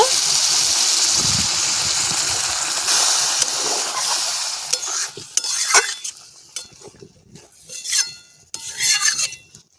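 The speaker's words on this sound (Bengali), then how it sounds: "এবারে আমি এতে জল দিয়ে দেব" Water is poured into a pan of pointed gourd and prawn curry, a steady gushing pour with a sizzle for a few seconds, then clinks and scrapes of a utensil stirring.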